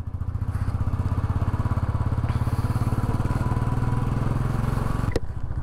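A motorcycle ridden on a road toward Guru Shikhar in Mount Abu gives a loud, close, rapid rhythmic engine thump that holds steady, with a brief clatter near the end.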